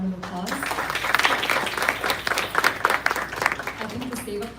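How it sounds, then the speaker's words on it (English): Applause for graduating students at a school graduation ceremony, a steady crowd clapping that rises and swells through the middle, with a voice speaking briefly at the start and end. "let's give them one more round of applause"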